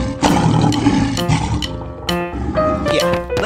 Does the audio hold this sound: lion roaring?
yes